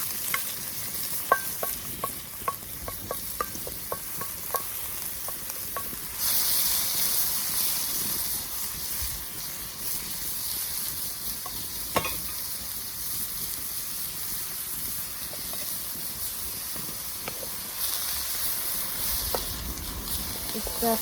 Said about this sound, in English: Just stir fry it a bit.